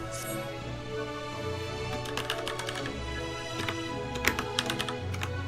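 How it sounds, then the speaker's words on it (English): Loud computer keyboard typing during a livestream of Final Fantasy XIV Shadowbringers, with bursts of rapid close clicks over a low steady background hum and no talking. "sorry for the loud clicking"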